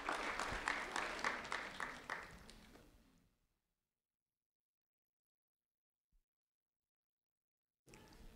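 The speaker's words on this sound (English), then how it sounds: "a round of applause for Lincoln Stroup" Audience applause for a fifth-grade student from Hancock Creek Elementary School in North Fort Myers, a dense clatter of clapping for about three seconds that fades into silence, then a brief burst of clapping returns at the end.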